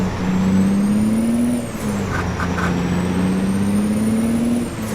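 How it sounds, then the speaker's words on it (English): An old Volvo truck in American Truck Simulator drones with a loud, steady diesel hum that dips briefly while short hissing air brake bursts sound, then climbs again. "My old nasty Volvo truck."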